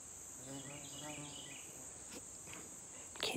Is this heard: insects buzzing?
yes